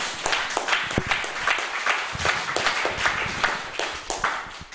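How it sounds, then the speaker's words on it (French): A church congregation applauds in praise, a dense, lively patter of many hands clapping with some louder claps standing out, sustained throughout at moderate loudness without speech. "Applaudissons le Seigneur Jésus"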